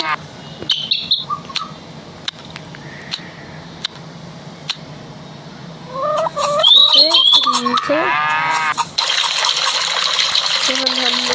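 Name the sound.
water running as hands are washed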